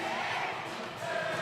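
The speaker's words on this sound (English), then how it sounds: "Brought the crowd to its feet." Loud, dense crowd roar at a women's college basketball game between Drexel and Stony Brook, a steady wash of cheering and shouting that holds without a break through the moment.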